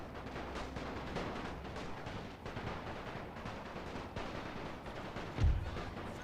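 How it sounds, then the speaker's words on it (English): Artillery and rifle fire rumble through a Great War battle in the game The Great War 6.0, with a continuous dense barrage of distant booms and crackling shots and one heavier, closer blast near the end. "which is getting hit by artillery fire at the same time"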